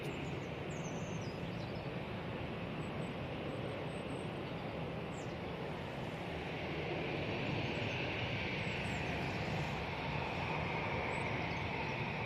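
An airliner departs Manchester Airport on a windy day, a broad, distant roar that holds steady throughout, blended with constant wind noise.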